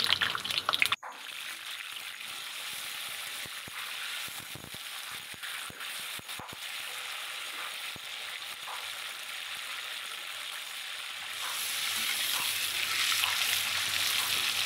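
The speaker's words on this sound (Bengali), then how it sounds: "পটলটা একটু ভেজে নিতে হবে।" Pointed gourds frying in oil give a steady, close sizzle with scattered crackles and spatters; after a brief knock at the start the frying rolls on continuously and grows a little louder toward the end.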